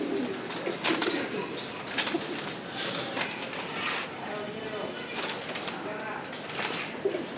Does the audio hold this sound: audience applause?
no